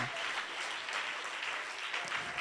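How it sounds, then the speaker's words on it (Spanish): A church congregation applauding the Lord, a dense, steady crowd clapping at moderate distance that fills the space without pause. "Dale un aplauso al Rey, al Señor de su vida."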